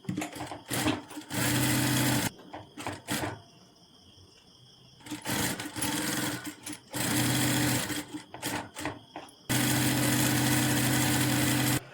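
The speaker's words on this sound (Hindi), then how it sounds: "अब यहाँ से चारों तरफ इसी तरह गले के सिलाई लगा लेना है।" A sewing machine stitches around the neckline of a princess cut blouse in several loud, close bursts of rapid whirring, broken by short stops and quiet handling of the fabric.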